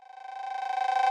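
A synthetic Roland TR-808 cowbell note rolls in rapid repeats, thickened with chorus and a touch of reverb, building in level before cutting off.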